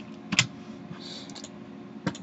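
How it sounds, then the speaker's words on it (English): Soft keystrokes on a computer keyboard while typing a range name into an Excel spreadsheet, a few scattered clicks at an uneven pace, close and quiet over a faint room hiss. "we would type our range name"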